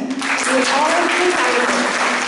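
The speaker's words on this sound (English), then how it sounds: "Please give a big clap for Bounce 19 Batch." Steady, dense applause from an audience at a closing session of a university foundation development program, filling the whole moment with continuous clapping and a faint tonal hum underneath.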